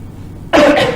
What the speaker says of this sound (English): I have a bit of a cough, I'm sorry if I sound hoarse.